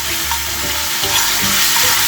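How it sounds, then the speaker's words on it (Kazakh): Tomato paste with salt and black pepper frying in a pan for meatballs: a close, continuous sizzle with soft stirring scrapes of a spoon through the paste. "қуырып жібереміз томат пастамызды"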